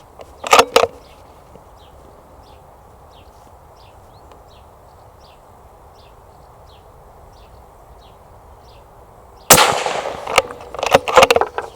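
Rifle shots from a Hardy Hybrid Carbon Fibre lightweight hunting rifle at a 100-metre target: a couple of sharp close cracks at the start, then a quiet stretch of faint ticking, then another loud burst of reports near the end.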